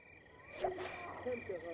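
A summer-night ambience of frogs, crickets and cicadas in a video game: steady high insect trilling with a few faint croaks and chirps layered at a moderate distance, no voices.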